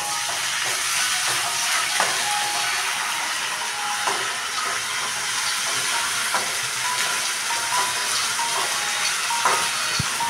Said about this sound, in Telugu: సో అల్లం వెల్లుల్లి పేస్ట్ కొంచెం ఫ్రై చేయండి బాగా